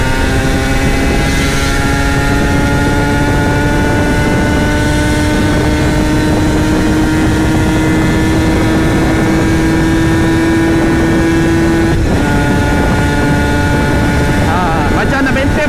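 Yamaha TZM motorcycle engine running at sustained high RPM, a loud, constant droning whine that holds steady pitch before a brief shift near the end, with someone talking over it.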